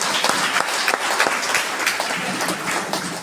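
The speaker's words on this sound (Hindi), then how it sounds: "फिर से जबरदस्त ताली।" Audience applause at a motivational gathering, dense steady clapping from a crowd that fills the space evenly from start to finish with no pauses.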